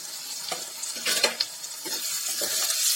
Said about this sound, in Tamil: இப்போ நல்லா வந்து இந்த வெங்காயம், தக்காளி, பச்சை மிளகாய் வந்து நல்லா வதங்கி வரணும்.